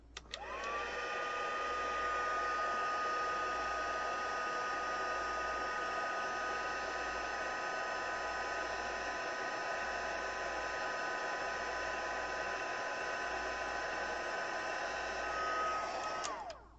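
A heat tool for card crafting blows hot air in a steady, continuous whoosh with a faint whine, switching on at the start and running unbroken for about fifteen seconds before cutting off.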